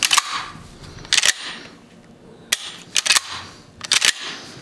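Sharp metallic clacks of a vintage Remington rifle action being worked, several quick clusters of clicks with pauses between, close up and crisp.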